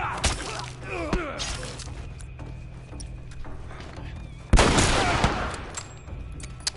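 Rifle shots in The Last of Us, heard as a couple of sharp cracks at the start and a louder blast near the middle, set against game ambience and a faint background voice.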